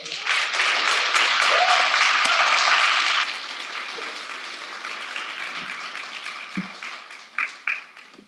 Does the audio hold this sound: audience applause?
yes